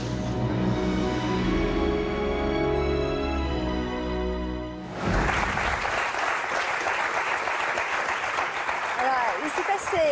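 Wedding guests break into loud, sustained applause and cheering that suddenly takes over after a stretch of music, continuing steadily to the end.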